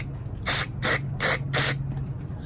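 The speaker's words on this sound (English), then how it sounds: "spray side here where the fuel line goes" An aerosol cleaner is sprayed into the fuel-line side of a plastic Briggs & Stratton carburetor in four short, hissing bursts, close and sharp over a faint background hum.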